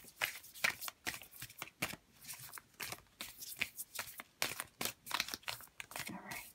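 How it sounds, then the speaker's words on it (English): Playing cards shuffled and cut by hand, a string of crisp papery riffles and flicks in quick irregular bursts, close and fairly quiet with no talking. "I'll shuffle a little bit and I'm going to cut the deck"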